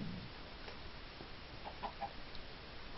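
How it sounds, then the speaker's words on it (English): A Minecraft chicken clucks in a video game, a few faint short clucks over a quiet hiss of background noise. "I hear chicken again."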